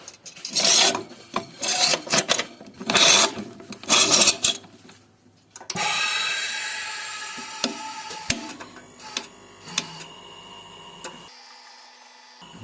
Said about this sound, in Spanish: nos vamos a la prensa Veragaz a prensar.